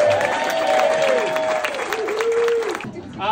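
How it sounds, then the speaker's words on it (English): Audience applause at a special needs fashion show, broad steady clapping from a crowd for about three seconds with a tonal sweep of music or a voice above it, then fading out near the end. "Give Lucky a big round of"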